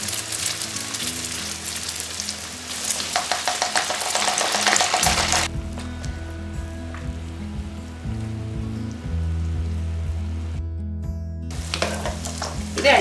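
Achappam batter on a mould sizzles and crackles loudly in hot oil over a low flame for about five seconds, then fades under steady background music.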